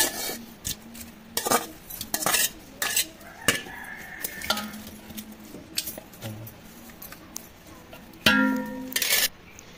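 Beef being stirred in a Kolkata-style biryani pot, giving scattered metal clanks and scrapes of a spoon against the pot, with a faint sizzle underneath, close by and without speech.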